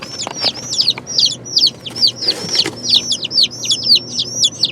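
Baby chicks in a box chirp in quick, high repeated peeps, several overlapping in steady bursts, close by and clear over a low hum.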